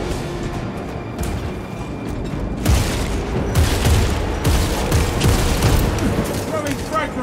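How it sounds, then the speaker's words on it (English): Frag grenades going off in Warhammer 40K Space Marine 2, several loud booming blasts in quick succession amid continuous battle gunfire, with a voice speaking over the din. "Throwing frag grenades."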